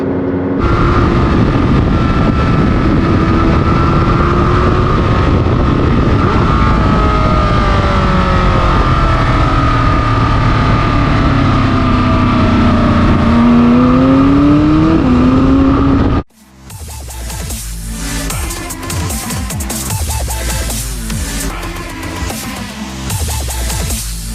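A McLaren 600LT Apex Collection sports car runs with a loud, continuous engine drone whose pitch rises and falls for about sixteen seconds, then cuts abruptly to a different, busier sound.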